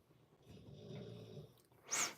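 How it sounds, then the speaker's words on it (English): A dog snoring nearby, quiet and low: one long rumbling snore, a short pause, then a brief, sharper snorting breath at the end. "Excuse my dog and his snoring."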